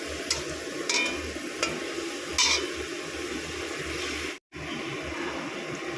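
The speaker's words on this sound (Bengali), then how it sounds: "এদিকে চিংড়ি মাছটা হালকা করে ভেজে নেব" Shrimp frying lightly in oil, a steady soft sizzle with occasional crackles and a brief gap near the end, no talking.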